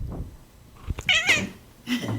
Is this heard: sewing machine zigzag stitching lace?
no